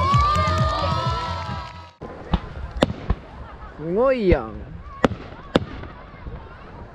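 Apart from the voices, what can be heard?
fireworks exploding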